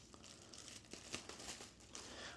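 Scissors snip through a large sheet of big bubble wrap while a stereo is wrapped for shipping, giving close, quiet crinkling and several crisp cutting ticks in an irregular rhythm.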